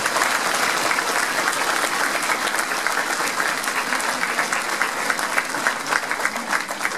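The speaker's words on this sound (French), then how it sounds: "je souhaitais que vous puissiez à nouveau les applaudir pour ce qu'ils peuvent représenter sur notre territoire" An audience applauds firefighters, gendarmes and police at the end of a speech by Alain Suguenot: dense, steady applause from many hands, loud and close throughout, with no voices rising above it.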